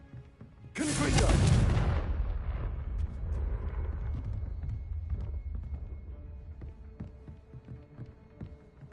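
A Confringo spell blast in Hogwarts Legacy erupts suddenly as one loud, booming explosion with a bright crackling burst, then rumbles and fades into a long scattered tail of debris patters and faint echoing clinks.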